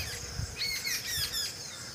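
Harsh bird calls sound in a short run of squawks over a quiet outdoor background in the early morning, fairly close and with nothing else masking them.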